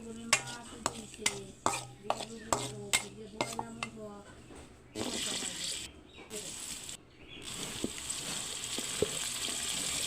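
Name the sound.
long beans cooking in a pan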